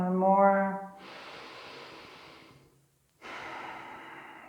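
Deep breathing during an energizing yoga class: a voiced exhale, then two long airy breaths separated by a brief pause, close and fairly soft with no talk.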